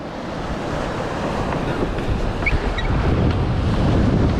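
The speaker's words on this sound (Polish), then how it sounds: "bo fale tu są" Sea waves wash onto a beach in a continuous, rumbling roar with wind buffeting the microphone, loud and close, building slightly toward the end.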